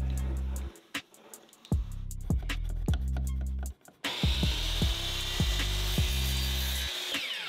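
Wooden dowel cut to length with a hand saw during a DIY wooden jewelry stand build: rapid rhythmic back-and-forth saw strokes in bursts, a brief pause, then a harsher, louder run of strokes, close and alone.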